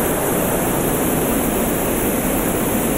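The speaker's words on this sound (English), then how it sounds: "Svirsky waterfall" Svirsky waterfall in Russia thundering as one continuous broadband roar of heavy falling water, loud, close and unbroken.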